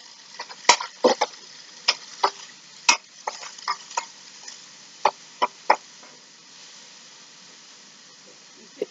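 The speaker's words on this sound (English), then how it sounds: "The zucchini is getting caramelized there." Zucchini fries in a pan while being stirred, a low sizzle under a series of sharp scraping and clinking strokes from a utensil against the pan, close and irregular.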